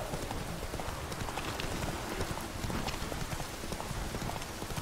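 Roach the horse's hooves in The Witcher 3 beat a quick, steady clip-clop, moderately close and continuous, with a soft, rain-like texture behind them.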